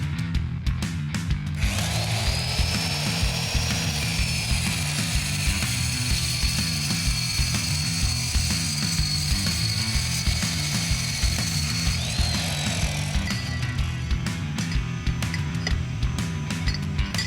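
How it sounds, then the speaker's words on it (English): Edwards 10-ton hydraulic bender working 1 3/4-inch 120-wall DOM steel tube into a U shape, giving a steady mechanical ratcheting and whirring drone with a bright whine across the bend, heard alone. "Their 10-ton bender quickly turns this piece of straight tube stock into the U shape that we need."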